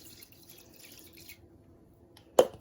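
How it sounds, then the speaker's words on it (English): Water and rice go into a cold cooking pot, giving a soft, steady trickling pour that fades out, then one sharp clatter. "Add the rice with the water."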